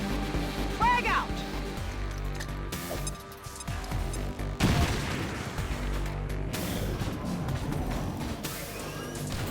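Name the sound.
grenade explosion and gunfire in the video game XCOM 2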